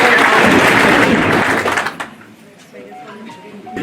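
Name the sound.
audience applause at a farewell ceremony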